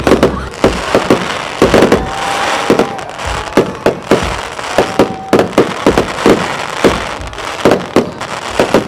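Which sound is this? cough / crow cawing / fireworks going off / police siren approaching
fireworks going off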